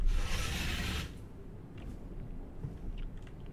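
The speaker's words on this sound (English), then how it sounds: "is someone chewing something out here?" Wet chewing and biting noises in the horror game Jisatsu, a dense raspy burst for the first second and then quieter intermittent smacking and mouth sounds close by.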